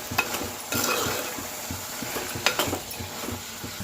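Goat head curry is stirred in a pan after chili powder goes in, with steady sizzling under repeated scraping and knocking strokes of a spoon against the pan. The sound is close and there is no talking.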